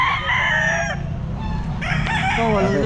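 Rooster at a pet market in Grotto, giving two loud, close crows against a constant crowd and market din.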